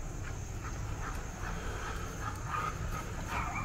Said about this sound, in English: except for that one yappy dog over there